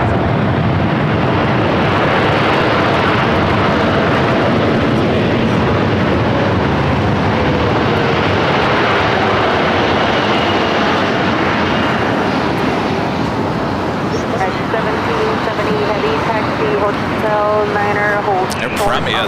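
A United airliner at LAX, its jet engines producing a loud, sustained roar and whine that holds steady with a shifting tone, while a person talks over it.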